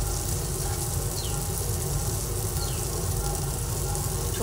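Spices and Kashmiri chili powder fry in a pan with softened onion and tomato for a Bengali Sankar fish curry, giving a steady, continuous low sizzle with faint scraping, no talking.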